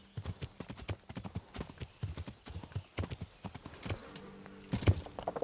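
Horse hooves clip-clop steadily in Kingdom Come: Deliverance, a run of close, evenly paced footfalls with a brief whinny-like tone near the end and no speech.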